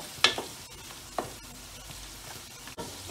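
Chicken pulao being stirred in a pan, with a few scraping strokes over a steady low sizzle of frying, close by and with no talking.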